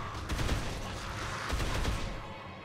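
Bursts of rapid gunfire in the zombie game Dead Island Riptide, two dense volleys of shots close together over a few seconds, loud and without speech.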